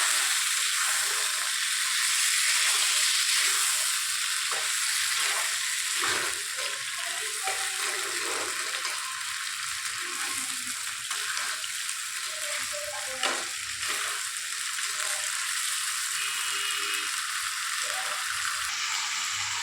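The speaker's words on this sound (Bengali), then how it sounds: "আর দিয়ে দেবো পরিমাণ মতো আদা বাটা দিয়ে এটাকে ভালো করে মিক্স করে নেবো।" Ginger paste being mixed into white chicken in a pan, with a steady broad sizzle and soft scraping of a spoon through the dish, close and continuous with no talking.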